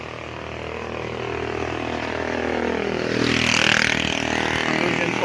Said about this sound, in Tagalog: So napakaingay ng tunog ng motor.